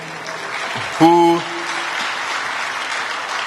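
Crowd applause for a governor fills the clip as a steady broadband wash, with one short voice calling out loudly near the start.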